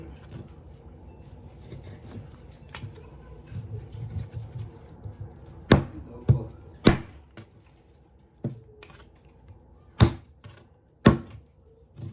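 Turkey meat being cut with a knife for a taro and bok choy stew, heard as a handful of sharp, irregular chops against a board over a low, quiet kitchen background.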